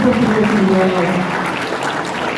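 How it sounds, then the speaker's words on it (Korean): An audience at a corporate award ceremony claps steadily through the whole stretch, fairly loud, with faint voices and a tonal hum mixed underneath. "큰 박수"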